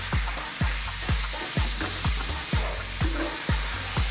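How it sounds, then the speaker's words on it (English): Finely chopped onions with garlic ginger paste frying in a pan for beef curry, a loud constant sizzle with regular rhythmic stirring scrapes about twice a second, close up and without speech. "Let's get that garlic ginger paste in. Give this a stir around."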